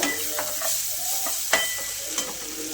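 Besan batter goes into fried onions and tomatoes in a pan, producing a steady sizzle with a few sharp utensil clinks and scrapes as it is stirred, close and without talk.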